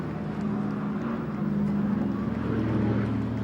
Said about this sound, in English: Great sight of the Dakota from the RAF Memorial Flight, based at RAF Coningsby